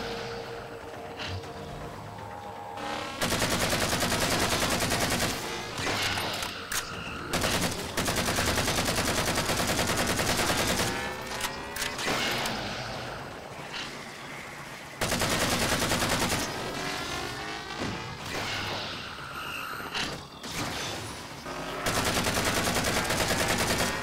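Rapid automatic gunfire from Halo 4 gameplay comes in long, loud bursts of machine-gun fire with short gaps and a few quieter pauses between volleys.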